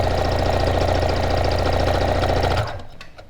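A sewing machine runs steadily while stitching through fabric for a pin cushion, its rapid mechanical whir dense and even, then winding down and stopping near the end.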